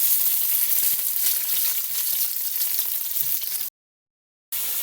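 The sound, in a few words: hot pepper, garlic and onion frying in a pan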